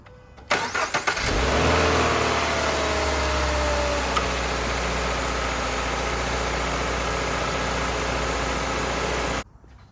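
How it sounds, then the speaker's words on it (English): A Toyota GR86 with a GReddy oil pan baffle fitted cranks briefly and fires, then settles into a steady, close, loud idle that runs on without interruption until it cuts off near the end. "Let's go ahead and get it started."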